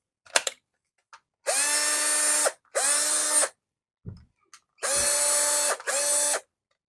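A Black & Decker SL13YD cordless drill running on a homemade lithium-ion pack whirs loudly and close in four bursts of about one second each, rising and falling in pitch, with small clicks and handling knocks in between.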